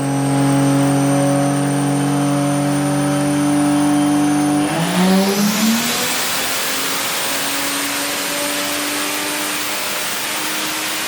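A turbocharged Vortec 4200 engine with a bigger turbo revs steadily, then climbs sharply under boost into a loud, rising roar with turbo whine and dense exhaust noise, sustained close and continuous without talk.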